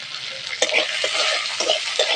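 Spices with turmeric, sugar, chili powder and salt fry in a pan, a steady close sizzle punctuated by a few quick stirring scrapes.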